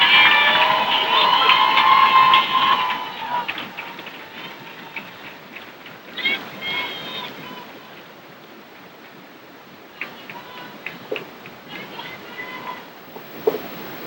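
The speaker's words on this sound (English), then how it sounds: "Big round of applause for all 37 of these students." A high school commencement crowd for the class of 2022 bursts into loud cheering and applause, then settles into quieter scattered claps, shouts and murmuring voices across the hall.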